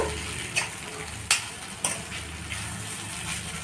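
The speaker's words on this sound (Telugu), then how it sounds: "ఈ పోపులో ఇలా మంచిగా కలిసేలాగా కలపండి" Coconut chutney mixed into a sizzling tempering in a pan, giving a steady frying hiss with a few sharp spatula clinks, close and fairly loud, with no talk.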